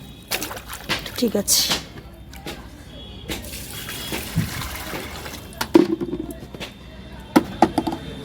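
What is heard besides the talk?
hot water being mixed in a basin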